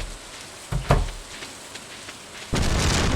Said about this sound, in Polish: Jednak jest burza.